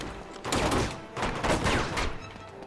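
Enemy gunfire in Uncharted 2 rattles in quick clustered bursts, a dense fusillade of overlapping shots in two close, loud volleys with no talking.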